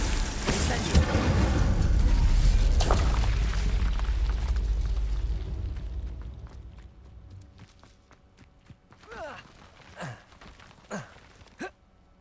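Incendio fire spell cast in Hogwarts Legacy: a loud, dense whooshing burst of flame roars for several seconds and slowly fades, followed by scattered sharp crackles and small pops.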